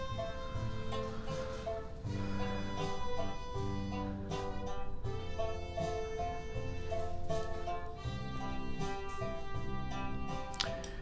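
A short, simple electronic music loop with a steady beat, a repeating bass line and tonal melody, playing alone without voices.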